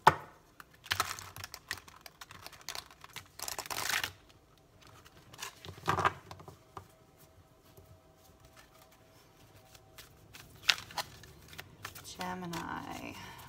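Stiff Good Tarot deck cards being shuffled by hand in several short bursts of riffling and sliding, close and crisp, separated by pauses with faint handling noise.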